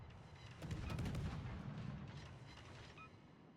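Naval gun salvos fire in a warship video game, a heavy booming burst swelling near the start and rolling on with low rumble, a few faint higher tones over it and no talk.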